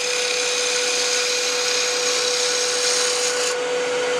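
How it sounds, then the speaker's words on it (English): A lathe tool cuts into a spinning wooden pen blank, slicing off a corner with a steady, loud whirring hiss and a constant tone throughout, no talking. "I'm slicing off this one corner right here."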